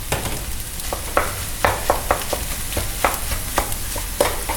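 Lobster fried rice stir-fried on a hot griddle with live lobster: steady sizzling hiss broken by repeated sharp spatula clanks and scrapes in an irregular rhythm, close and fairly loud, no talking.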